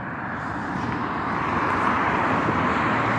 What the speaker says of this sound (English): Look, trucks, look at that. See the noises he made?